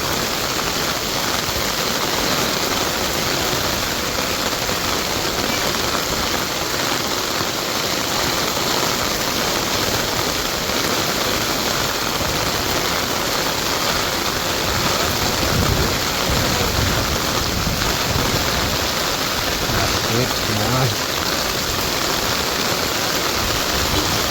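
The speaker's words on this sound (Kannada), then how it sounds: "ಮಳೆ ಜೋರಾಯ್ತು" Dense, steady roar of heavy rain pouring down, loud and unbroken throughout, with a low rumbling undertone.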